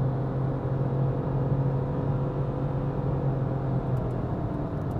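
A 2022 Renault Clio 1.0 TCe with X-Tronic transmission drones from inside the cabin while driving, with a low, even engine hum and road rumble. The engine note holds fairly constant and moderately quiet throughout, with no clear gear change standing out.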